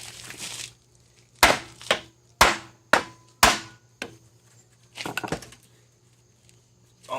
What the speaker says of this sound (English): I'm going to get the rest of the way down with a hammer.